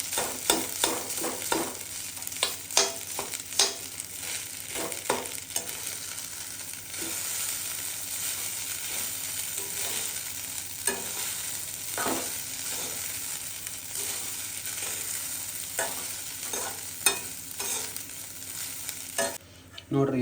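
Garlic rice being stirred and fried in a pan, with a steady close sizzle broken by repeated scraping spoon strokes throughout, no voices.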